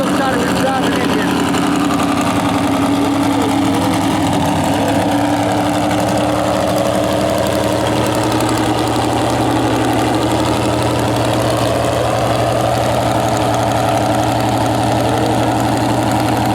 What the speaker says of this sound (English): We get a close-up shot of his driving engine.